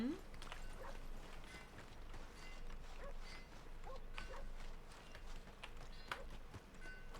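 Steady rhythmic hoofbeats of a horse trotting, moderately loud, with soft creaks and background ambience and a little talking mixed in.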